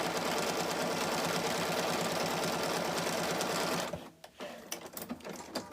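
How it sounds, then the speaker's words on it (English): A sewing machine running fast and loud in a continuous dense whir for several seconds, then stopping abruptly, followed by a few light clicks and knocks as it comes to rest. "I think my sewing machine's going to need an oil soon."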